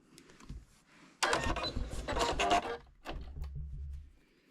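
A sewing machine back stitches a small quilted coffin-shaped keychain, giving short bursts of mechanical whirring and clatter. Two longer, louder runs are followed by a shorter, lower run, with no talking.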